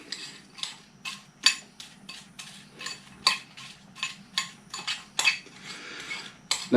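A spoon mixes crushed graham crackers into dehydrated apple pie filling in a bowl, sending out a steady run of close, sharp clinks and scrapes against the dish, with no talking.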